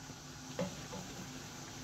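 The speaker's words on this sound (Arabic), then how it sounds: "فوالا بنفس الطريقة البنات نكمل نقلي الحبات" Tunisian fricassee dough balls fry in hot oil with a steady, faint sizzle and one brief knock partway through; no voices.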